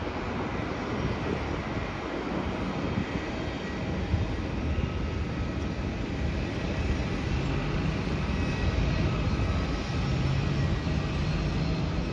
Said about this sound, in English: There's a Batik Airlines flight coming in from Kuala Lumpur.